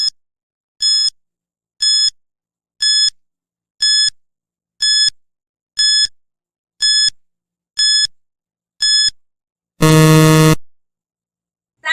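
A countdown timer runs during a word puzzle: evenly spaced electronic beeps, about one per second, then a long loud buzzer blast marking time up, with no talking.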